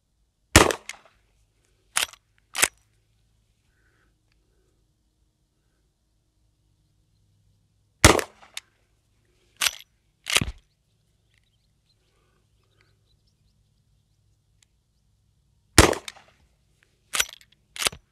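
Henry All Weather side loading gate rifle in .44 Magnum firing at an outdoor range: sharp, loud shots in spaced clusters of two or three, about eight in all, with quiet pauses between and no talk.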